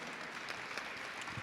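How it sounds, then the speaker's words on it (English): Brief, faint applause from an audience at a school board meeting, a soft, even patter of clapping heard from a distance for just over a second. "Can we give him one more round of applause, please?"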